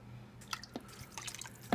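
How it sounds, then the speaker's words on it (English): Apple cider vinegar dribbles into a pot of bone broth in a few quiet, irregular drips and small splashes, close by and faint, with no talking. "And we're going to add some apple cider vinegar."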